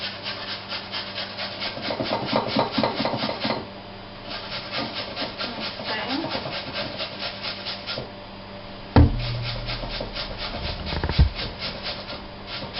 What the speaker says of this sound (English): So I'm just going to quickly grate that on top.